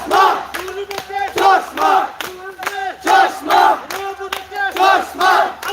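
A large crowd at a union council chairman candidate's election campaign rally in Bangladesh chants slogans loudly and rhythmically, with repeated call-and-response shouts rising and falling in regular waves.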